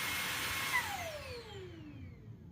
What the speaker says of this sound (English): Okay, I'm going to turn the vacuum off.